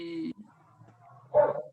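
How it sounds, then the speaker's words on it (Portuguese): Dogs barking in the distance, picked up through an open microphone: a short yip and a couple of muffled barks, faint and far off under background noise. "Eu estou ouvindo os cachorros no fundo."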